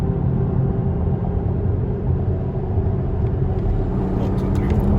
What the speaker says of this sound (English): he's gonna try the anti-lag again